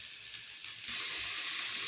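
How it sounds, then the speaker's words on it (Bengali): Cut potatoes fry in hot oil for a mutton curry, a soft crackling sizzle that swells suddenly louder midway and then holds steady, with no talk. "এই যে আলু যে কেটে রেখে সেই আলুটা ভাজছি"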